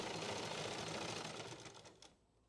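Sewing machine stitching fabric for an umbrella palazzo, a fast steady needle rattle close by that slows and stops near the end.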